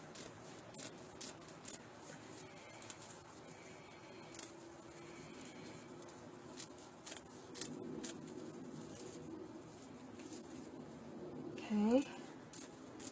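Scissors snipping fabric for a Santa hat, small crisp cuts scattered over a quiet room, faint and close, with someone talking softly at times.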